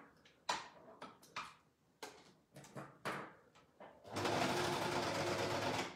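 Domestic sewing machine stitching a seam on baby booties: a few scattered clicks and handling knocks, then a sustained, close, steady whirring hum over the last two seconds.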